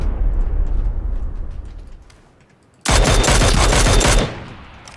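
PUBG battle royale combat: a low rumbling blast fades out, then after a brief lull a loud, dense burst of rapid gunfire and explosions erupts for over a second before cutting back to a duller roar.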